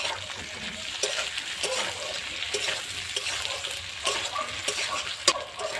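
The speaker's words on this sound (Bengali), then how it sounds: "টমেটো কুচি দেওয়ার পরে একটু নাড়াচাড়া করে নেব" Chopped tomato with spices stirred in a hot pan, a soft sizzle under repeated scraping and tapping of a spoon, close and moderately loud.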